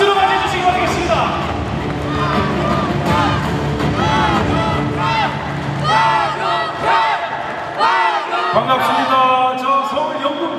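A crowd at a party convention rally in Chungcheong cheers, claps and shouts in a loud sustained roar welcoming a candidate to the stage, with whoops rising over the applause.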